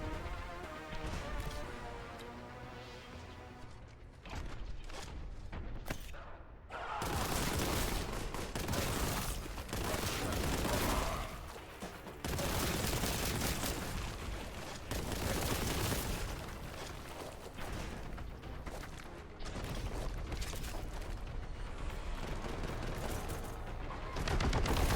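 Grenade blasts and rapid gunfire in the shooter game Warhammer 40,000: Boltgun, a dense, continuous barrage of loud bursts and booms with dramatic music underneath, no talk.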